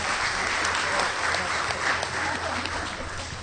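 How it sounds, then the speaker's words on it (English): Warm audience applause at a peace and development forum, a steady, even wash of many hands clapping for the whole stretch. "Another warm of applause to Dr. Miriam Ferrer."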